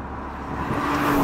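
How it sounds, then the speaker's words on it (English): A Nissan GT-R NISMO with a turbocharged engine accelerates hard in second gear from around 3,000 RPM, a rising engine roar and whir building steadily over a brief moment. "the turbochargers come from the GT racing car and they just spool up so quick"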